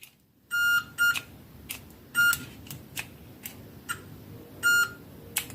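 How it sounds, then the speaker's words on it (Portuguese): A multimeter on continuity test beeps: several short, clean electronic tones in an irregular pattern, loud and close, over a quiet room with faint handling noise. "Se ele estiver funcionando, ele vai dar o bipzinho lá"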